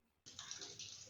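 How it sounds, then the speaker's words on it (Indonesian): A water tap in a bathroom under renovation, running on its own, abruptly bursts into a steady hissing gush that continues without pause. "Itu namanya keran air"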